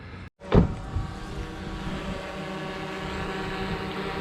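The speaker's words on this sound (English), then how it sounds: "while I was out here flying the drone, I got it too close to the car" A small camera drone hovers close beside a parked car outdoors, its rotors giving a steady, droning buzz that follows a sharp thump near the start and holds evenly to the end.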